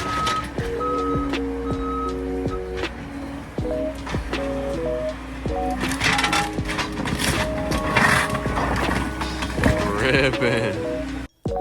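A skid steer loader tears off a porch during demolition, with the machine's engine droning alongside repeated reversing beeps, cracking and crunching wood, and scattered clanks, while people talk in the background.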